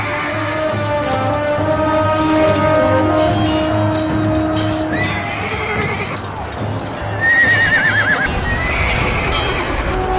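A horse neighs in an audio drama, with a long loud whinny and hoof clip-clop under a steady background hum, followed by a second shorter whinny near the end.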